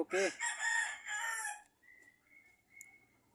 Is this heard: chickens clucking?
yes